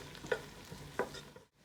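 Carrots sautéing in a pan, with two sharp stirring scrapes over a soft, steady sizzle before a brief hush.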